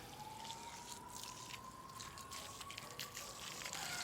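Water trickles and drips faintly into potted adenium plants, a soft, continuous splash-and-soak sound close by with no talking.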